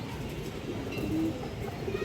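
Soft, low pigeon cooing rises briefly amid a steady background murmur, with another faint coo near the end.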